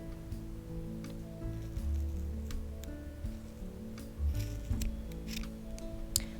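Scissors snip through the end of a yarn-wrapped faux loc, a few crisp close cuts with light rustling of the yarn between them.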